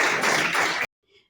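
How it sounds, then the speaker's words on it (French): An audience applauds at a school excellence awards ceremony, a dense burst of clapping that fills the room, then cuts off abruptly after under a second, leaving near silence. "Applaudissez."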